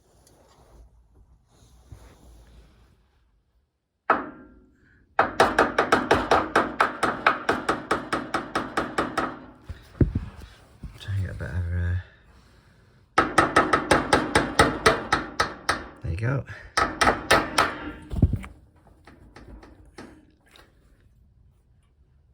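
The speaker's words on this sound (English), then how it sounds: "Give it a tap and hopefully it'll ping out" A hammer taps a stuck radiator thermostat valve pin in rapid metallic bursts of close, sharp knocks, separated by pauses, with a few brief spoken words between the bursts.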